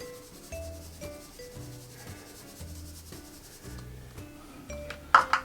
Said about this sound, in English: Then we're going to give this a good rubbing.